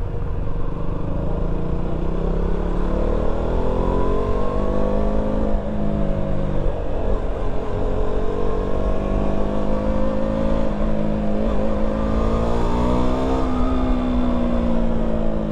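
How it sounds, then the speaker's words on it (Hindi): KTM Duke 200 motorcycle ridden at night through Mumbai, its engine droning steadily and rising in pitch as it accelerates up through the gears, close and loud for the whole stretch. "थर्ड गियर में 50, 60, 70 वो भी इजीली काफ़ी भाग रही है।"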